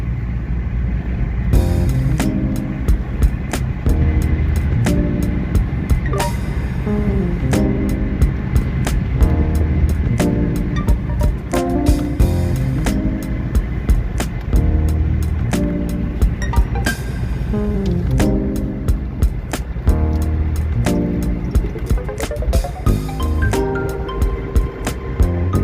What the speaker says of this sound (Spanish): El motor está muy bien insonorizado, siendo un diésel de antigua generación